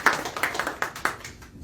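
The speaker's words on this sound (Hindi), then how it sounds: "भाई के लिए जोरदार तालियां" A church congregation briefly claps to welcome a first-time visitor, a quick run of about ten sharp claps from a small group that thins out and fades within two seconds.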